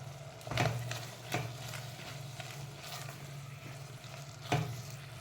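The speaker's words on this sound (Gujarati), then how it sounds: "હવે આપણે એમાં હળદર એડ કરી દઈશું, મરચું એડ કરી દઈશું, ધાણા પાવડર એડ કરી દઈશું" Turmeric, chili and coriander powder sizzle in a pot for dal khichdi, a steady soft frying hiss with a low hum beneath and a few brief stirring clinks, quiet and close.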